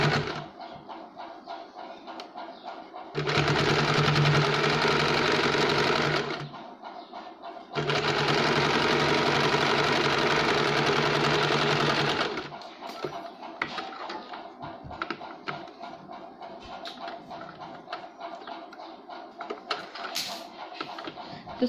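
A sewing machine stitching a fabric sleeve runs in two loud, close bursts of rapid steady whirring, separated by a short pause, followed by quieter handling clicks and fabric sounds.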